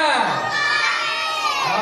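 Primary-school children shout together in a loud, sustained cheer as a fire hose's water is turned on during a school firefighter activity.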